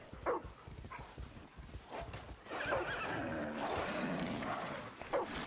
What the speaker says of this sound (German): Ich habe ein Pferd umgebracht.